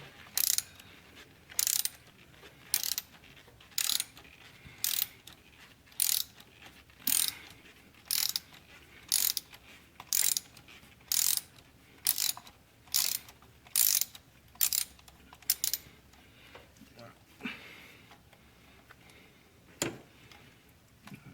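A ratchet cranks on an Audi A4 spark plug in a steady series of about fifteen short clicking bursts, spaced evenly and close to the listener. A couple of sparse clicks follow near the end.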